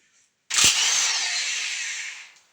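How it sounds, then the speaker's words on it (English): Electric impact wrench spinning out a transmission bolt during a budget LS swap on a 1978 Buick Skylark, one sharp close burst that whirs steadily for about two seconds and then winds down. "Electric impact is a great thing to have"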